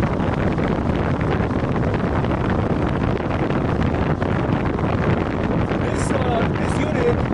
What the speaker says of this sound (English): It's gonna be a little bit windy.